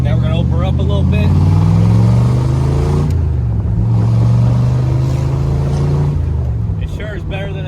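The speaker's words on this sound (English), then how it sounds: "Now we're going to open her up a little bit." A 1967 Chevrolet Corvette's V8 rumbles loudly from inside the cabin, rising as it pulls away and holding a strong steady drone, with brief speech at the start and end.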